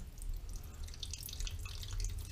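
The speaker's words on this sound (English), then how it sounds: "You can see that water going out" Water trickles and drips steadily from a disconnected toilet supply line, with a continuous close splashing that carries on the whole time and has no speech over it.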